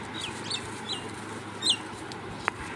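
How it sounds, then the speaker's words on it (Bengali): Birds calling in Chawafuli tea garden in North Bengal: a few short, thin chirps scattered over a quiet outdoor hush, fairly faint and at a distance, with one sharper, brief call near the end. "শুধু পাখির আওয়াজ।"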